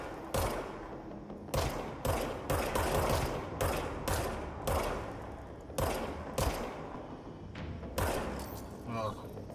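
Sniper rifle gunfire in the video game Control, repeated sharp, heavy shots in uneven bursts, loud and close, with someone speaking between and over them.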